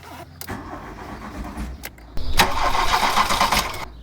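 A VW Golf GTI engine being restored cranks, catches and fires up for the first time after a fresh install, with loud starter whirring and then a rough roar close by. There are brief pauses between attempts.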